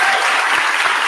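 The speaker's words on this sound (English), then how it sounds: "Please give her a big round of applause for standing up for us." An audience applauds a city mayor after the end of a DC33 strike, steady dense clapping filling the room, loud and close, with no talk over it.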